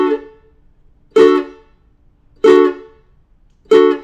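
Four short strummed ukulele barre chords in a pump strum, each cut off abruptly into silence by releasing the fretting hand, in a slow even pattern, close and clear with no talking.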